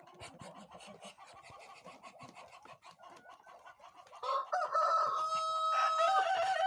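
Roosters crow loudly near the end, overlapping one another, after a stretch of clucking, scratching farmyard noise.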